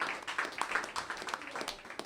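Audience at a stand-up comedy show clapping and cheering in a steady wash of applause that swells and dips over about two seconds, moderately loud and heard from within the crowd.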